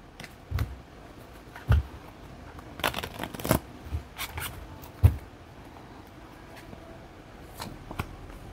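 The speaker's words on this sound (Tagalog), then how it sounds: "Balasahin uli natin." Tarot cards being shuffled up close, with scattered riffles, taps and soft slaps in irregular bursts and quiet gaps between them.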